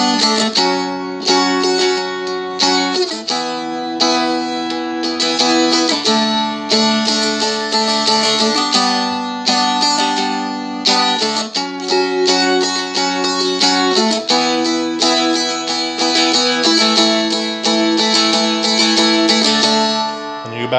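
A Seagull Merlin strummed through the chords of a song, bright, steady rhythmic strums ringing close and loud throughout with no talking.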